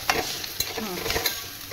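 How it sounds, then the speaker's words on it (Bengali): Water splashed into frying spices for a curry, a short burst of sizzling with spoon stirring and scraping in the pan, close and fairly quiet, no voices. "একটু জল ঢেলে দিলাম"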